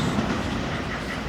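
A train passing close by, a loud, continuous rumbling roar of rail cars with steady wheel noise and no pauses.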